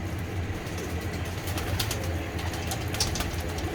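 Champion racing pigeons coo and flutter nearby in a steady, busy stream of bird sound with no talking.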